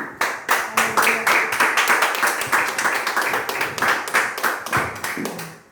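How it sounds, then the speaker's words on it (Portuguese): A church congregation claps together in a steady, brisk rhythm of many hands, loud and close for several seconds before the applause thins out. "Aplaudam o Senhor, aqueles que puderem."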